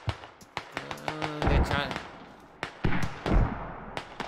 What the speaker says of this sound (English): we got mortars coming in